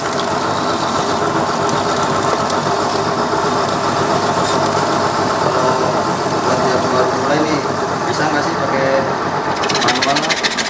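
A machine slicing ingredients for chips runs loudly and steadily with a whirring, rattling mechanical drone throughout, no pauses.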